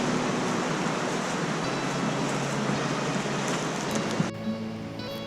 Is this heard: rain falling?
yes